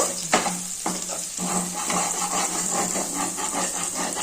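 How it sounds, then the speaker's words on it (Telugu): Moong dal frying in a little oil gives a steady sizzle with crackling, broken by a couple of sharp taps early on and a low hum running underneath. "కొంచెం ఆయిల్ వేసి వేయించుకోండి"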